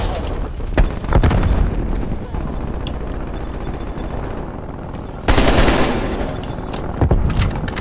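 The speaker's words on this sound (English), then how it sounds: "Throwing frag." A frag grenade goes off in Call of Duty Black Ops Cold War, a sudden loud blast about two-thirds through, after rattling automatic fire. Voices talk underneath.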